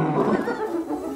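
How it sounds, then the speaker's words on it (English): A lion roars at hyenas, a loud, close, harsh and rasping roar that fills the whole short moment. "The king of the jungle loses his temper and roars like there is no tomorrow."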